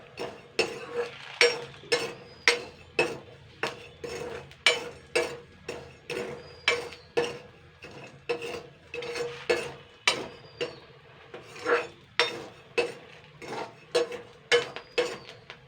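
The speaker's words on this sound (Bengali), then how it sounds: "এই দেখুন ছোলাগুলো ফাটছে।" Black chickpeas dry-roasting in a pan without oil or sand, with sharp, rapid ticks and rattling pops repeating in an irregular rhythm throughout, close and fairly quiet.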